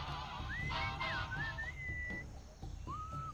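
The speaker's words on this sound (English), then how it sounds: "What is that enchanting whistling sound?" Melodic whistling in the Sam & Max game soundtrack, rising and gliding notes over a steady, busy musical backing.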